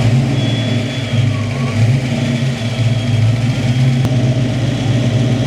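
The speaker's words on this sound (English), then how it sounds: "Still idling pretty high though." A Ford Foxbody Mustang engine runs at a fast, high idle after starting, a loud and steady close-up drone with a faint whine over it and no talking.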